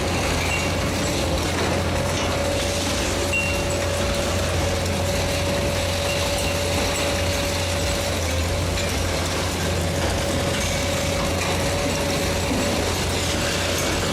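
An Okita TSRC 1700 VHR heavy-duty hydraulic crusher with steel jaws runs steadily, giving a loud, continuous mechanical grinding and clanking with a sustained hum throughout.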